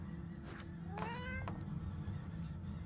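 A cat in the video game Divinity: Original Sin 2 gives two short meows, the second a longer, rising and falling cry, over a low steady background hum.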